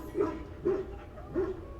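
Mabari war dogs in the fantasy video game Dragon Age: Origins give three short, evenly spaced barks, fairly faint over a low background hum.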